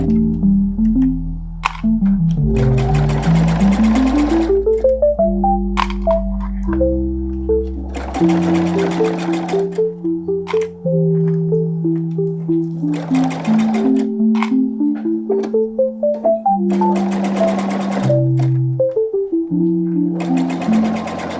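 A domestic sewing machine stitches through thick layers of a fabric bag with matching thread, running loud and close in long continuous bursts with brief pauses, its motor whine rising and falling in pitch as the speed changes.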